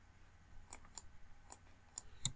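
Computer mouse clicks, a handful of sharp, quiet, close taps spaced irregularly over a near-silent background.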